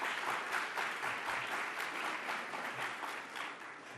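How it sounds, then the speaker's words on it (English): An audience at an event with the New York governor gives a round of applause, a steady dense patter of many hands heard from a distance, tapering slightly at the end. "Can we have another round of applause for the governor?"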